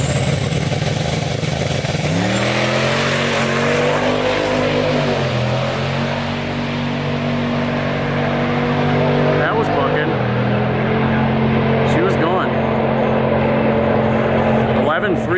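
A race car makes a drag strip pass, its engine rising in a loud sustained scream that climbs through gear changes, with a dip and shift around the middle before pulling hard again toward the end.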